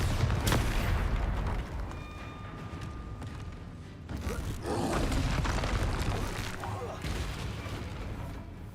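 Booming blasts from the Bombarda explosion spell in Hogwarts Legacy, heavy bursts and rumbling impacts mixed with other combat effects in a loud, busy fight, with a voice shouting spell names.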